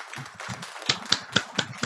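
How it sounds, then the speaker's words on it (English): Scattered clapping from a small audience at an amateur radio club meeting, a few sharp claps in an uneven patter that rises into several louder, distinct claps before fading. "that's a big round of applause"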